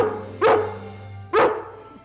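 Two loud, close barks from a dog in an old cartoon, evenly spaced about a second apart over a low steady background hum, with no talking.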